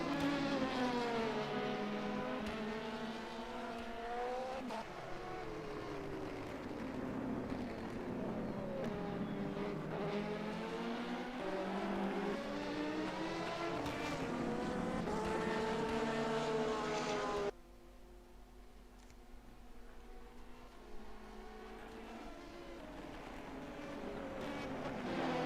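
Race car engines at Spa in a sim racing game, several high revving engines whining close and loud with pitch rising and falling through gear changes, dropping abruptly then building again, with no talk.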